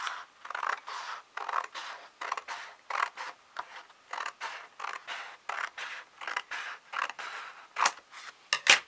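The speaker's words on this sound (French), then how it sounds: "donc je vais découper tout le bord." A blade cutting along the edge of a 30-centimetre block in a quiet room, a rapid series of close, crisp scissor-like snips and creaks in uneven bursts, a couple of sharper strokes near the end.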